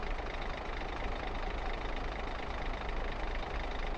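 A heavy truck engine idles in the World Truck Driving Simulator video game, a steady low rumbling drone with a broad noisy hiss, continuous and even with no talk.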